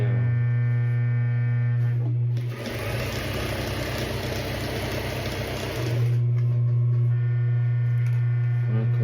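A sewing machine stitches pieces of jeans together in a single steady run of about three seconds, loud and close, with a strong electrical hum before and after.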